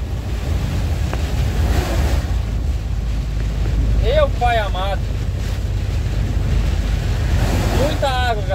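Heavy rain and strong wind during a cyclone roar in a continuous loud wash of noise, with someone speaking briefly twice over the storm.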